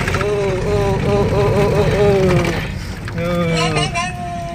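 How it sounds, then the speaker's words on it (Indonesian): Ferry Portaling 3 engine droning as passengers board, a steady low rumble with a whining tonal hum, briefly dipping midway, with a voice speaking over it. "Naik kapal ya, ferry Portaling. Portaling 3."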